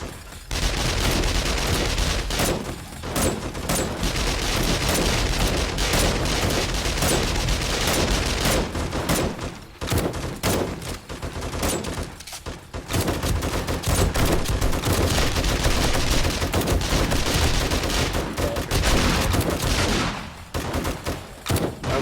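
Automated turrets firing during horde night in the video game 7 Days to Die, loud, dense rapid gunfire in sustained bursts with brief gaps, continuous and close throughout.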